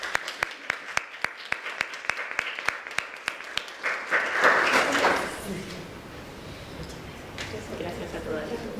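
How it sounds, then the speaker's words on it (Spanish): Applause from an audience at a panel discussion on women's role in communications breaks out, rising to a dense swell of clapping around the middle before settling into lighter scattered claps, with regular sharp ticks running through the first half. "Yo los invito a aplaudir a las panelistas."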